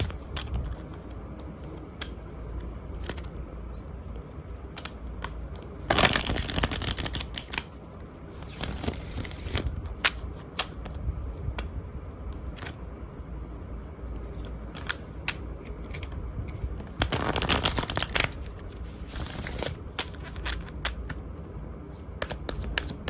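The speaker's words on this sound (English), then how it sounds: "till I shuffle this deck" Tarot cards being shuffled in repeated riffling bursts, with a steady rustle and two louder, longer shuffles standing out; no talking.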